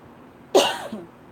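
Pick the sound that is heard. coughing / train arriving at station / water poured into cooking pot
coughing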